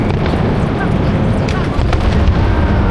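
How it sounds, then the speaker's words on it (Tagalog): Fireworks bursting over Tsim Sha Tsui, Hong Kong, a loud continuous rumble of booms and crackles with wind buffeting the microphone and crowd voices underneath. "naabutan namin itong naggagandahang fireworks sa TST"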